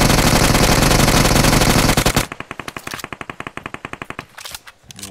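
Video game gunfire from a battle-royale tournament match as players shoot a coupe car until it explodes: a dense, loud wash of noise, then rapid rhythmic automatic bursts that stutter and briefly pause, with no voices.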